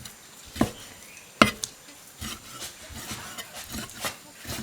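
A knife cuts through pork fat on a wooden board, giving a few sharp knocks followed by softer rubbing, scraping strokes, close up, with no voices.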